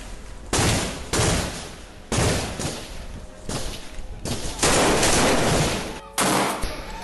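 Gunfire during an Al-Qassam Brigades attack on IDF soldiers and vehicles in Rafah, Gaza: loud, harsh bursts of automatic fire, several sustained volleys separated by brief gaps, close and distorted.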